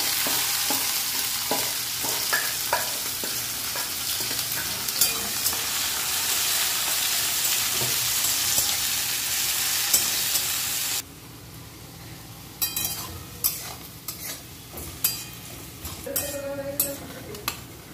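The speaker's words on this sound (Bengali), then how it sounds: "পেঁয়াজটা একটু ভেজে নেব বেরেস্তার মতো।" Onions fry in oil until crisp for mutton curry, a loud, dense sizzle that runs steadily for a long stretch. The sizzle then drops to a quieter crackle broken by sharp stirring and scraping sounds in the pan.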